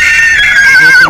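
A horse whinnies at a livestock fair: one loud, close, sustained high neigh that wavers and then drops off sharply at the end, with no other sound beside it.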